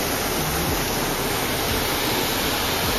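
Broadband rush of a waterfall at Amaakunda Saiba Tirtha near Balimela, Malkangiri, a dense steady roar with no breaks, loud and constant, with no voices.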